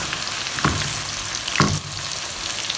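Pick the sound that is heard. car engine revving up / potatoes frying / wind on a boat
potatoes frying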